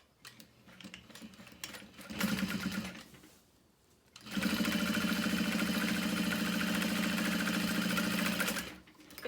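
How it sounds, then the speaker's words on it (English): Top stitching on a handbag pocket with a sewing machine: a short burst of motor hum, a pause, then a long steady run of close, rhythmic stitching that stops abruptly. "So I press that down, and now we can top stitch."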